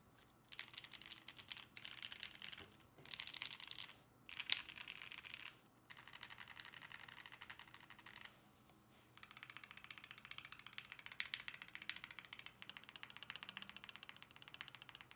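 Keystrokes on a modded budget mechanical keyboard, either a KBD67 Lite or an Ikki68 Aurora, clatter in steady bursts with short pauses, close and fairly loud, and no one talks over them.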